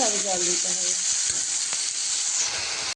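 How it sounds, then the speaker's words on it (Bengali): Masala fries in oil in a pan for a catla fish and aubergine kalia, giving a bright, steady sizzle with occasional stirring clicks. A brief voice is heard at the start. "ভালো করে কষিয়ে নিতে হবে মশলাটা থেকে তেল ছাড়লে"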